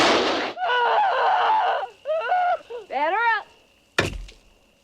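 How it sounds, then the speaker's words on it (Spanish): A firecracker bursts with a single sharp, loud bang near the end of a horror film scene, preceded by a hiss, a tonal whine and vocal-like sounds, and followed by a brief fading tail. "toma uno de los petardos y lo introduce en la nariz de Peter."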